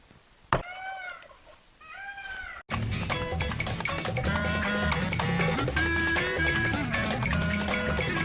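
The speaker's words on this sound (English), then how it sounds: "any sort of crazy noise right now, because it's breeding season, peacocks are going to sound off." Peacocks call outdoors in breeding season, giving two loud, wailing, rising-and-falling cries close by before a sudden wall of dense, loud noise swamps the scene.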